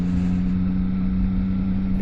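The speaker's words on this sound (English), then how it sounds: "I think it's the 3-cylinder sound" A CFMOTO 675SR-R three-cylinder motorcycle engine and exhaust give a steady, close, low droning hum for a brief moment, with no speech.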